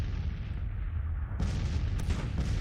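Distant artillery booms in the game Grand Tactician: The Civil War, a couple of muffled thuds rising out of a steady low battlefield rumble.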